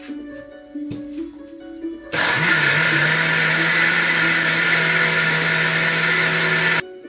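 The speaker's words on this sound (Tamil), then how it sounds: "இப்படி ஒரு மிக்சி ஜாருக்குள்ளே போட்டு இயந்திரத்தை பூட்டி நன்காக அரைத்து எடுப்போம்" A kitchen mixer grinder whirs loudly in its jar, grinding appam and dosa batter, starting abruptly after a few seconds of quieter clatter and running steadily for about five seconds before stopping.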